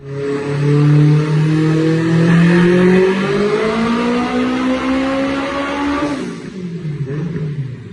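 A turbocharged Honda Civic making about 1,017 horsepower on 42 pounds of boost revs hard and loud, its engine pitch climbing steadily for several seconds before cutting off abruptly.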